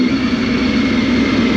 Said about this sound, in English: You know the whining noise you can hear? Well, that's the Triumph triple engine.